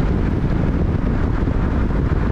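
Heavy wind buffets the microphone in a constant loud, low roar that fills the whole stretch without letting up, on back roads in a 2003 Mercedes SL500 roadster.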